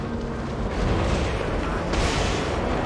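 Rumbling explosions in Jurassic World Evolution, a dense loud roar of blasts that swells again near the end, with no talk over it.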